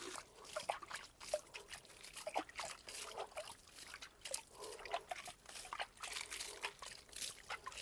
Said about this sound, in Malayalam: ഞാൻ കാണിച്ചു തരാം കനാലിൽ കുറച്ച് വെള്ളം.